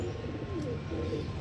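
Pearl-spotted pigeons and a Ferozpuri hen, a fancy pigeon breed, give soft low cooing close by over a steady hum of background noise.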